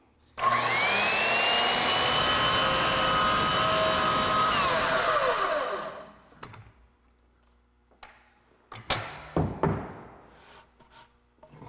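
A saw cuts a kerf into a log for log wall construction, a loud steady whining roar for several seconds that winds down, followed by a few knocks and clatters.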